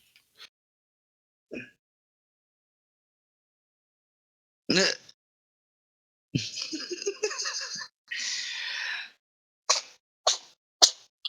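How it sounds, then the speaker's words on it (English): Several short, sharp sneezes from a cat, scattered with pauses between them, close and fairly loud against an otherwise quiet background. "Okay, the cat's sneezing all over me."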